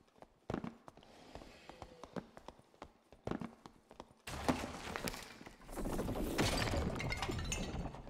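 Horse hooves clop in the video game Dark and Darker, with sharp hoof strikes in the first half that give way to a louder, dense wash of game noise.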